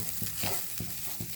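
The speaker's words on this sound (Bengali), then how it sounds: "এবার নুনটা দিয়ে এই আলুটাকে খুব সুন্দর মতো ওই আলুর চোখার মতো করে মিশিয়ে নিতে হবে।" Boiled potato being mashed with salt by hand in a bowl, making a steady run of wet, squishy presses at a regular beat, close up, with a soft hiss under it and no talking.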